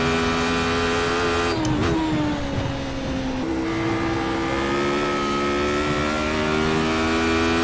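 A Radical race car in the iRacing sim at Oulton Park drones steadily at high revs, its engine tone dipping briefly and climbing again through a gear change, loud and continuous with no talk.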